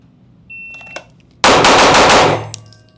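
A Staccato P4X pistol fires a rapid burst of about five loud gunshots in roughly one second, preceded by quiet handling noises and followed by a fading echo.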